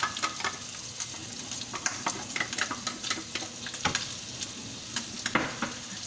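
Onion and garlic fry with ground pork in hot oil, a steady close sizzle broken by repeated scraping stir strokes of a spatula in the pan; no one speaks.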